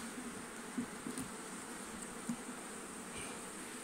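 Soft, steady buzzing of many honeybees at close range at a hive, with a few brief louder passes as individual insects fly near.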